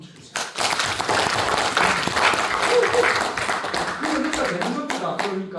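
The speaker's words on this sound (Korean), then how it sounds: "박수 한번 쳐주세요." A seminar audience breaks into loud, sustained applause that fills the room for several seconds, with a few voices faintly audible beneath the clapping.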